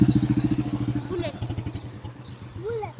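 Royal Enfield Bullet motorcycles ride along a village road by a flooded river, their thumping single-cylinder beat pulsing steadily and loudly, then easing, with voices and faint bird calls in the background.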